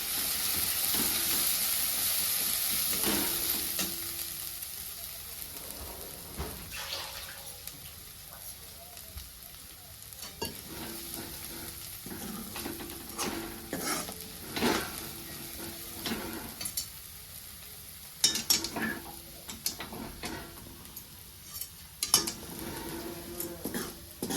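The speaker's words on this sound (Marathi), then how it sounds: "त्याला चांगलं तेलामध्ये तळून घ्यायचं" Besan dumplings fry in hot oil with a steady bubbling sizzle, while utensils clink and scrape against the pot now and then, close by, with occasional faint speech in the background.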